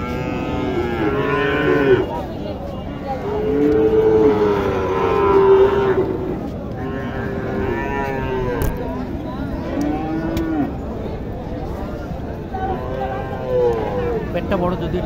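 Sahiwal cows at a busy cattle market, lowing in several long, drawn-out moos close by, with people talking throughout.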